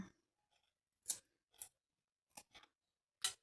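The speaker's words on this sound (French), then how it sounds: "Prenez des vieux ciseaux pour ça." Old scissors cutting paper, a handful of sharp, crisp snips spaced irregularly and heard up close in a quiet room.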